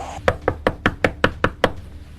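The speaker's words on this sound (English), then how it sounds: "No one answered at the home when we knocked." Knocking on the front door of a house during a sheriff's eviction matter, eight evenly spaced sharp raps, close and clear, with a hollow wooden ring and no voices.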